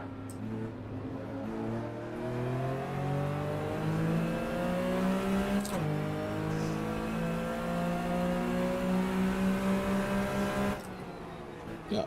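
Race car engines from the Assetto Corsa sim racing game drone steadily with rising and falling harmonic pitch as gears shift, loud and continuous for the whole span, with a brief crash-like burst near the middle.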